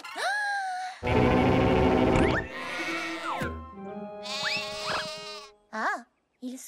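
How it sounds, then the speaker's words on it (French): Several nervous sheep bleat loudly and close by, wavering calls following one another with brief gaps, some drawn-out and groaning, one short quavering cry near the end. "Et les moutons, écoutez."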